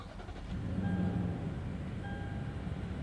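A 2015 Toyota Land Cruiser 200 started by push button: a low engine rumble swells and settles into a steady idle, heard close and alone.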